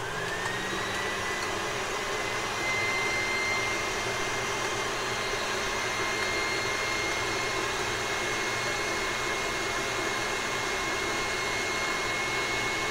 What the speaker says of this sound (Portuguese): Eu vou ligar no máximo a batedeira